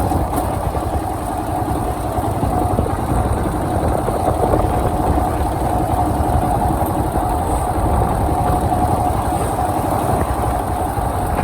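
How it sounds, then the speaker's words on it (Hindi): A motorbike engine runs steadily while riding across the Janki Jhula suspension bridge, a continuous loud drone with no talking. "तो चल रही है अपनी बाइक टुल्लुक इसके ऊपर"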